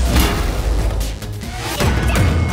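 Loud crashing impacts of a hammer smashing something in a cartoon, with a sharp crunch at the start and another burst of breaking debris near the end.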